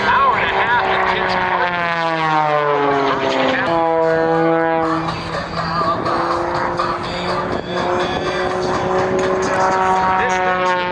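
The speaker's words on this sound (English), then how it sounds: "It's a tribute to our buddy Rob Holland as he now rolls the aircraft to the left." Propeller aerobatic plane performing rolls at the Toledo air show, a loud sustained engine drone with shifting pitch as it maneuvers, with a commentator talking over it throughout.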